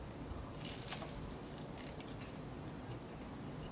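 A bite into a crunchy seasonal tomato tart with Dijon and rosemary salt gives a few quiet, crisp crunches close up, clustered early in the moment, then a soft low rustle.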